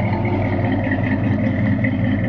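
A 1972 Ford F100 Explorer short-bed pickup idles with a steady, low exhaust rumble, continuous and close, with no voices over it.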